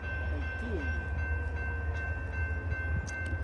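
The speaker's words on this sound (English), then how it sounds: "Here comes the Norfolk Southern." A Norfolk Southern freight train rumbles past steadily, with a constant low heavy drone, faint squeals and clanks over it, sounding close and continuous.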